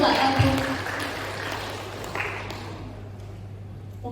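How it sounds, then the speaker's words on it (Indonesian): Applause from the audience at a national seminar on food sovereignty in Indonesia, a burst of clapping that starts strong and gradually thins and fades over a few seconds, with a steady low hum underneath. "Tepuk tangan untuk Pak Latif."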